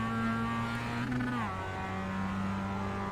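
A Mazda MX-5 in the racing game iRacing at Tsukuba Circuit holds a steady, loud engine drone, then the pitch drops sharply as it shifts or lifts off, settling into a lower hum.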